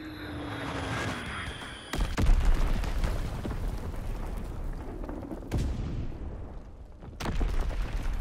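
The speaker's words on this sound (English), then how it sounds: "Enemy bomb incoming." An incoming bomb in a video game: a descending whistle ends in a heavy explosion, followed by rumbling debris, a second blast and then a third loud boom near the end.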